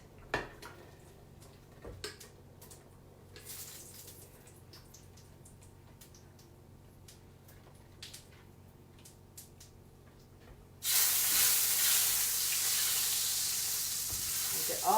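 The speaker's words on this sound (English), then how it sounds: "now we're going to add our blended tomatoes" Blended tomatoes for tikka masala pour into a hot pan and burst into a loud, steady sizzle after several seconds of quiet utensil clinks and taps.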